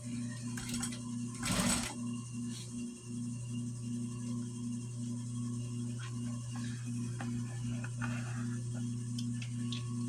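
A sewing machine backstitches while a cross-body drawstring bag is sewn. It gives a steady mechanical hum with a fast, even needle rhythm. A short scuffing burst of fabric handling comes early on, and the machine stays close and unbroken throughout.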